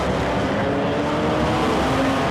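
1960s GT race cars roll off together on a green flag lap at the Silverstone Classic, a dense, continuous engine roar with no gaps and no talk over it.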